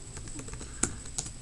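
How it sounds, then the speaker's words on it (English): Someone types on a computer keyboard, with soft, quick, close keystrokes and a couple of sharper clacks, alone and quiet. "I'll go ahead and just type those in."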